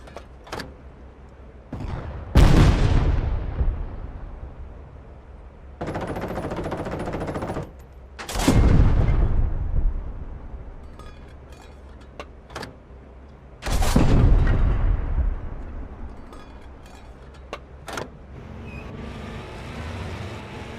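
Anti-tank guns fire in the Call to Arms: Panzer Elite WWII tank game, with several loud, sharp blasts spaced seconds apart, each trailing off into rumbling decay, plus a sustained mechanical burst in between.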